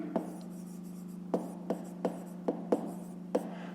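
Pen strokes on paper while working a fifth-grade math exercise, a series of short scratchy taps spaced irregularly over a steady low hum, close and fairly quiet.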